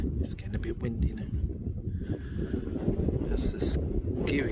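Strong wind on a hilltop facing the Skirrid buffets the microphone in a continuous low roar, gusting throughout with no pauses.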